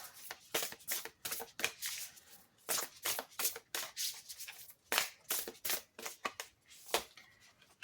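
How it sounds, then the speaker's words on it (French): Oracle cards from a goddess-themed deck are shuffled and drawn by hand, giving a run of quick, crisp papery riffles and flicks in close, irregular bursts. No one speaks while they sound. "je vais aller prendre une petite carte dans l'appel de la déesse"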